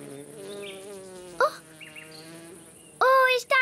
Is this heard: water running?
no